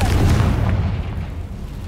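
A Confringo fire spell explodes in Hogwarts Legacy: a loud, deep boom erupts at once, then a rumbling roar slowly fades over two seconds with no speech.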